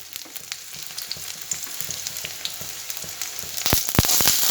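Fish fries in a pan of hot oil while cooking chowmein, a steady close crackling sizzle with bursts of popping that grow louder and busier toward the end, with no voices.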